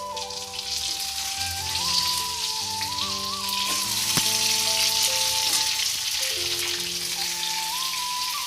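Masala-stuffed eggplants fry in a pan, a loud, continuous close sizzle with crackling pops and a bright hissing texture throughout, no talking.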